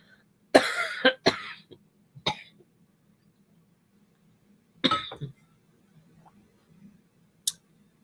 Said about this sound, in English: I don't know why I have this cough